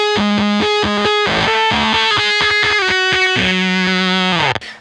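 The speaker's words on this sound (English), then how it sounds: "And C, fuzz factory, sounds like this." A Fuzz Factory fuzz pedal drives an electric guitar through a loud, choppy riff of short buzzy notes with brief gaps, finishing on a held chord that cuts off sharply.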